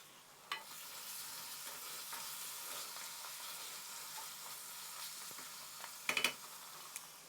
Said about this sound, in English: the spice has been cooking away for a few minutes